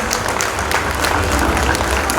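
An audience at an award ceremony applauds with steady, dense clapping that fills the room, loud and sustained without pause, while a voice faintly speaks underneath.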